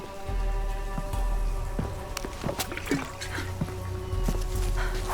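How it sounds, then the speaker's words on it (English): Rain falls in Shadow of the Tomb Raider, a steady patter and trickle of drops on surfaces, mixed with low rumbling and scattered clicks and taps from the game. "Rain's not natural."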